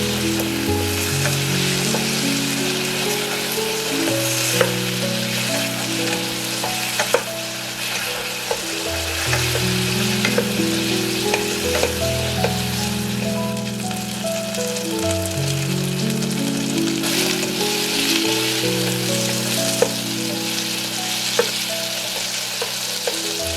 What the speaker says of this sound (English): Pour in half of the sauce and let it sizzle for about 30 seconds. Stir gently, coating the chicken.